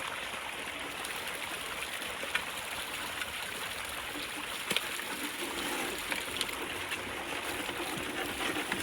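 Steady rushing and splashing water runs over rocks being washed in a gold pan at a stream, with small splatters and trickles throughout and no voices.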